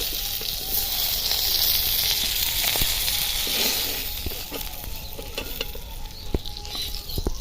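Crab frying in hot oil in a wok, a dense close sizzle and hiss that eases a little midway, dotted with occasional sharp taps and clicks, nobody speaking.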